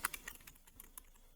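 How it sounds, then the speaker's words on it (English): Rapid clicking keystrokes on a computer keyboard, close and light, in a quick irregular burst of taps with a sharper first stroke, nothing else around them. "So I'm typing here as opposed to my design document"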